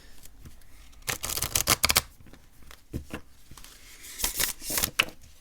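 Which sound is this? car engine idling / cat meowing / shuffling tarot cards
shuffling tarot cards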